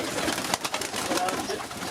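Zamość pigeons cooing softly in a loft, low murmuring coos close by amid a busy background of fluttering and faint human voices.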